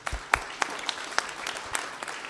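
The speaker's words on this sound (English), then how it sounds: "I want to just have a round of applause for the guys that are doing that." Scattered claps ring out from the audience at a startup conference, sparse and uneven, with separate sharp hand-claps spread over a couple of seconds at modest volume.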